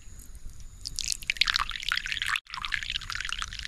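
Water running and splashing into a basin at a Japanese temple, a bright continuous pour with a brief gap midway, no talking.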